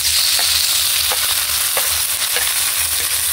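Dried fish eskabeche frying in a pan while being stirred, a steady loud sizzle with scraping stir strokes repeating every half second or so, close up and with no talking.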